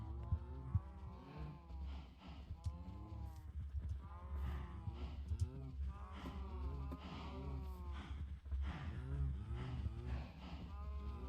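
Overlapping cow moos from a herd on a Minecraft cow farm drone continuously, many short lowing calls layered over a steady low hum, moderately loud and close throughout.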